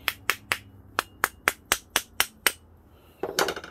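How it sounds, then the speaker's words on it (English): A screwdriver taps sharply on a stuck motorcycle carburetor bowl to break it free, about ten crisp metallic knocks in a steady run, close up. A short scraping clatter follows. "Let's see if we can break that free. Need a screwdriver to tap with."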